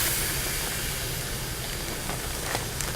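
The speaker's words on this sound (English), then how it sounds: "Love to hear that sizzle of the barbecue." Butterflied chicken breasts sizzle on a barbecue grill, a steady broadband hiss that holds evenly throughout, with a few faint crackles near the end and no talking.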